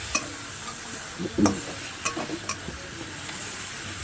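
A katla fish curry being stirred in a pan, with a low continuous sizzle broken by several distinct spoon scrapes and taps spaced irregularly across a few seconds.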